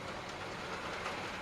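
A B17 model locomotive reversing onto a junction on a loft model railway, giving a steady, close, broadband rumble and wheel clatter that stays level throughout with no talk.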